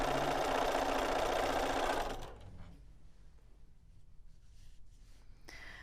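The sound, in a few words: sewing machine sewing quilt fabric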